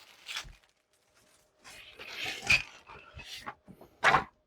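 A large Warhammer Stormbringer package is torn open, with several close, crinkly ripping bursts of cardboard and plastic separated by short pauses and ending in one louder tear.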